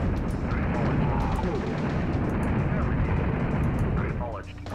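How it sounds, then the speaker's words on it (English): Tank cannon fire against ships in Command & Conquer: Red Alert, a rumbling barrage of blasts and explosions that goes on steadily, fairly quiet overall, with a drop near the end. "let's actually send my tanks after these ships here, because that's probably the easier way of taking them out"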